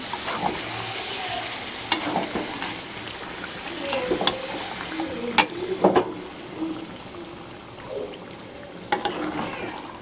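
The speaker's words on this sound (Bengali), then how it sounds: "এই তো মাংসটা আমি এখন কষাবো।" Meat being stir-fried in a pan, with steady frying sizzle broken by repeated scraping, clattering stirs and a few louder knocks against the pan; a faint voice murmurs in the background at times.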